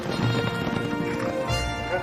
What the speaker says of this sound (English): And eventually they took to riding horses.